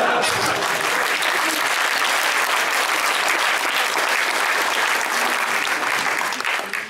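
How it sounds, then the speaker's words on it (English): Sustained applause from a conference audience in a hall fills the whole stretch, loud and dense, fading slightly at the very end. "Any applause is welcome, by the way."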